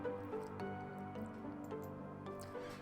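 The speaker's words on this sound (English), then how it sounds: "you can see where the River Marden passes under the watermill on the right." Water of the River Marden flowing beneath a watermill in Calne, heard as a soft, steady trickle with scattered drips and splashes, faint and continuous with no voices.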